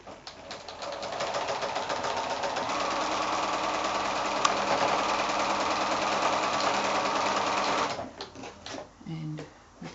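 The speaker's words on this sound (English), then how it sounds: "I'm going to go back to the sewing machine and sew again either side of that drawn line" A sewing machine stitches a seam across a quilt block made from 5-inch squares, running in a steady close whirring drone for about eight seconds before stopping, followed by a few light handling clicks.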